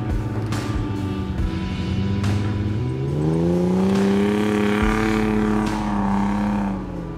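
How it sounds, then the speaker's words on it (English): Toyota 80 series Land Cruiser engine roars up a soft sand dune, its note climbing as it strains under power before easing off near the top; loud and close, with no talk. "it was time to hear Henry Yonker's 80 series roar up this dune"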